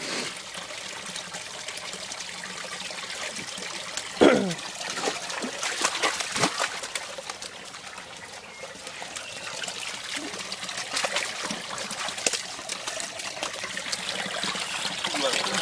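Water trickling from a hose or tap while a young German Shepherd plays near it, a continuous soft splashing and dribbling stream with occasional louder spatters, heard close by alongside someone speaking.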